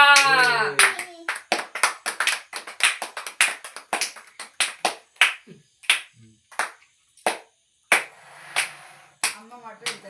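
Family members clap together at a wedding anniversary cake cutting, a steady run of sharp hand claps that thins into scattered claps, with voices briefly heard at the start and end.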